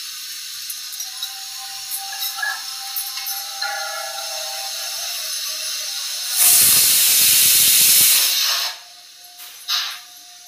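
A pressure cooker in a kitchen, cooking for an Annapoorneshwari puja, lets off a loud burst of hissing steam for about two seconds, then a short fainter puff after a low background hum.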